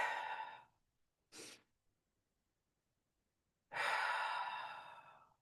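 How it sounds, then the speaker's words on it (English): Close, audible breaths alone: a long exhale, a short breath after a pause, then a long, deep breath drawn in and released. "Take a deep breath in."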